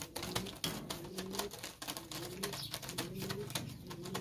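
Pigeons coo in a repeated low, rolling rhythm close by, with light clicking and shuffling from the birds mixed in and no talk.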